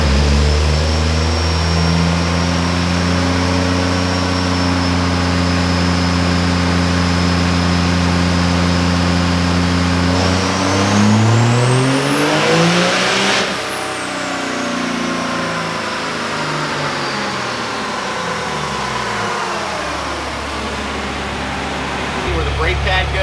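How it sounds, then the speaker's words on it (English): A Cummins diesel truck with an S467 turbo on stock fuel revs hard on a dyno, the engine droning steadily then sweeping up to a shrieking peak and easing back down, loud and continuous, with voices talking over it. "This is our first diesel on the dyno here, so we'll see what happens."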